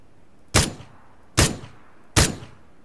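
Three sharp, loud gunshots in the video game PUBG, evenly spaced less than a second apart, each a sudden blast with a brief decaying tail, close and isolated.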